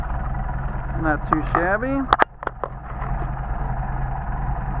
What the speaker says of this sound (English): so now we're running, there's 400, 500, so running at 500 RPM